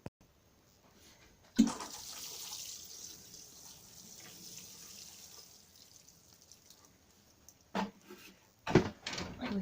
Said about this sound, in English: I'm going to give that a little water.